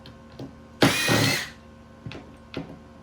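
A power drill briefly whirs loud and close as it backs screws out of the end piece on a Ryobi speed bench, followed by a few softer clicks and knocks of handling, with no talking.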